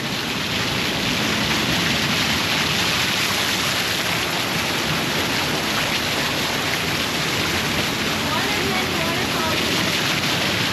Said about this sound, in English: we scaled down to the beach here and we found a waterfall